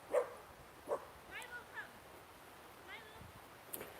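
Collie puppy yips and barks in short bursts, a few spaced yaps near the start and later, fairly close, with voices talking faintly outdoors.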